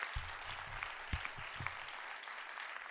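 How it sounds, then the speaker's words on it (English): An audience at a city arts awards ceremony applauds the mayor, a faint, dense wash of distant clapping that runs steadily throughout, with a few low thumps near the start. "You can clap for Mayor Durkin"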